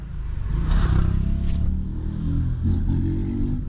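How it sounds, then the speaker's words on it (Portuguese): A loud engine rumble rises and roars nearby as a motor vehicle passes, low growl persisting throughout. "a moto chegando"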